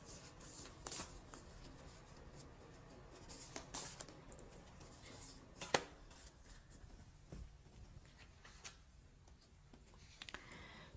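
Tarot cards being shuffled and drawn give a soft, continuous papery rustle with several sharper flicks and snaps as cards slide and land, close and quiet, with no talking.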